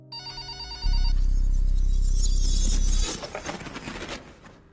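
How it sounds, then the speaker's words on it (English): A telephone rings with a bright, repeating bell tone, followed by a sudden loud, heavy low-pitched rumble and fading clatter. "Within an hour, I get a phone call."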